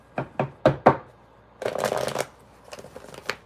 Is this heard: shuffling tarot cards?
yes